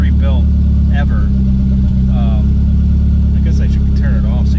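A rebuilt car engine, from a Supra or Conquest, runs steadily at idle with a loud, continuous low rumble, while someone talks over it throughout.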